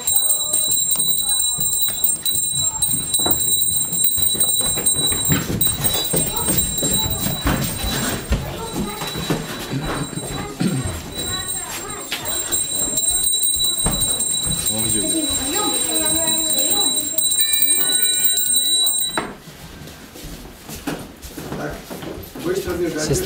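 An electric bell or buzzer rings continuously for many seconds in an institutional building, loud and steady. Shouting voices, footsteps and door clatter sound under it, and the ringing cuts off sharply near the end.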